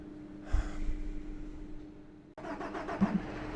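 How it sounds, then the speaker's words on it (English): Massive tractor engine in Farming Simulator 22 video game, a brief engine start and rumble, then a cut to another steady mid-pitched engine drone. "we get to use one of these massive"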